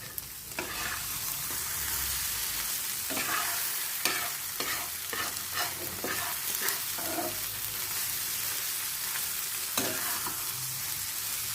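A meat filling for bread pakora is stirred and fried in oil in a pan, giving a steady close sizzle broken by repeated scraping strokes of the spatula, with no voices.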